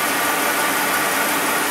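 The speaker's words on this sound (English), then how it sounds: "I'm gonna bring it up to a higher RPM" Jeep 4.0 engine held steady at raised RPM with a misfire being diagnosed, a constant dense mechanical roar with vibration, close and even from start to finish, with no voices.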